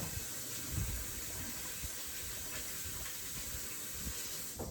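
A kitchen tap runs steadily while hands are washed before cooking a simple lunch, a soft continuous hiss of water with faint splashing, quiet and unbroken throughout.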